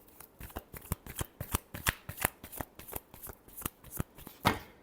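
Tarot cards being shuffled by hand, a rapid run of crisp riffling snaps in a steady rhythm, close and fairly quiet, with one louder burst near the end.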